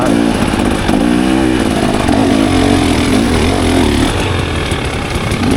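A 2024 KTM 300 XCW two-stroke dirt bike engine runs loud and close as the bike is ridden over wet ground, its note rising and falling with throttle changes across the whole stretch.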